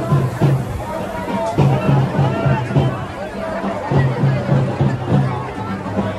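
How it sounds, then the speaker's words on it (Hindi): Dense crowd babble at a Muharram procession, many voices overlapping close by with rhythmic pulses underneath, with a nearby voice speaking over it. "इधर देखिए बहुत सारा भीड़ है"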